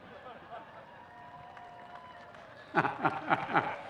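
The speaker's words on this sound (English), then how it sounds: "You can clap." After some quiet talk in the background, a burst of clapping starts up and continues in uneven bursts from a small group at a Coast Guard Academy commencement.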